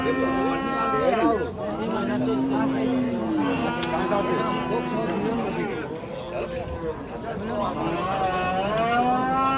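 Cattle, cows and bulls, low repeatedly amid the steady chatter of a crowded livestock market in Angren, Uzbekistan, people talking close by.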